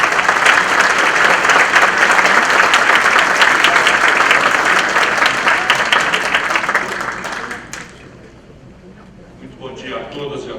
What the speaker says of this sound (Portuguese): eu peço uma grande salva de palmas